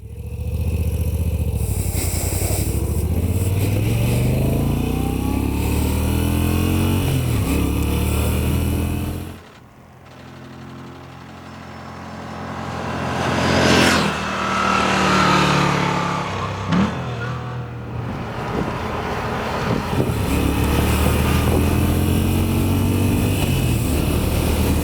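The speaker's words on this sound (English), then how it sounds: "Typical V-twin sound, dual exhaust." A warm Moto Guzzi V7 V-twin with dual exhaust pulls away, its loud engine revving up through gears, dropping off sharply to a quieter patch, then climbing again into a strong, rising pull.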